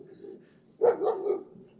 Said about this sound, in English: He's a friendly dog.